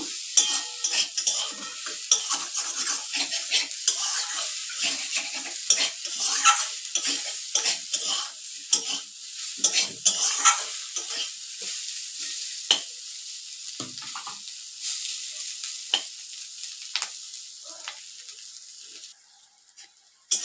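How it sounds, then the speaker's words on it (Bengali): Fried potato and bitter gourd pieces being stirred with spices in a pan, a steady close sizzle broken by frequent scraping and clinking strokes of the spoon against the pan, with no talk. "মশলার সাথে ভালো করে এটাকে নাড়িয়ে নেব।"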